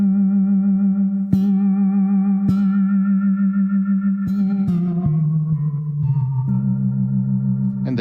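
A sustained tone from the Baby Audio Atoms physical modelling synth on iOS with a steady pitch, shifting to new notes a few times, each change marked by a sharp attack trailing into a reverberant wash.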